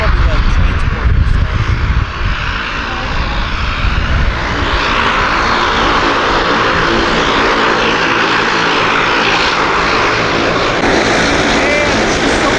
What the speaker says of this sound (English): That one's a pretty big plane, actually.